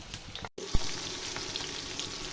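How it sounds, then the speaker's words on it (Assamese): Eggs fry in a pan with a steady, close sizzle and crackle that cuts out for a split second, then resumes with a sharp clack before settling back into continuous spitting. "ডিমখিনি মই ফ্ৰাই কৰি ল'ম।"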